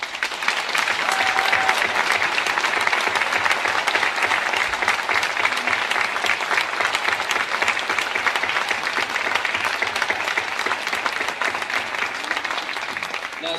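A large audience applauds students at an academic awards ceremony, sustained, even clapping from many hands filling the room for over ten seconds without a break.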